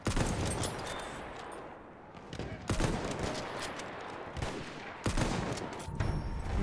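Rapid bursts of automatic gunfire from Battlefield 1 multiplayer on PS4, loud and dense with sharp cracks near 2.7, 4.4 and 5.1 seconds over a constant rumble of battle, with no speech.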